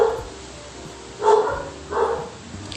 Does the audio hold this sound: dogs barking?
yes